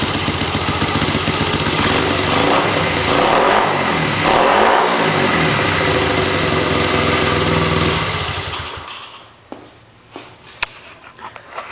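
A Honda Z50R with a high-compression 50cc engine and aftermarket exhaust revs hard and close, its buzzy note rising and falling through several throttle blips, then drops to a quiet idle with faint clicks.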